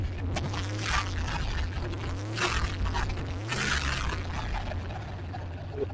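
A turbocharged LS 5.3L LC9 truck engine runs steadily with heavy blow-by and oil pumping from cylinder four, a loud continuous rumble with rattling and creaking mechanical noise throughout.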